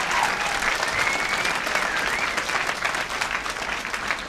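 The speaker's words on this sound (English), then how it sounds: "By a round of applause" An audience bursts into loud, dense applause after being asked to show whether they are conservatives. The clapping stays full and continuous from start to finish, with a few cheers rising above it.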